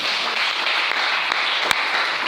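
Church congregation applauding, a steady wash of clapping from many hands sustained evenly for a couple of seconds, moderately loud with no talk over it.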